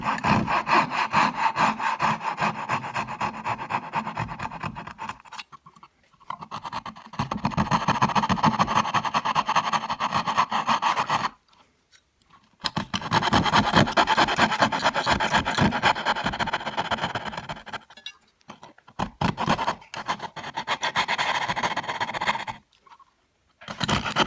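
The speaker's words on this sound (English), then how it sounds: "now I'm going to take my coping saw and try to clean as much of this away as I can" A coping saw cuts away dovetail waste in wood for half-mitered dovetails, giving long runs of steady rhythmic rasping strokes, close and fairly loud, broken by short pauses between cuts.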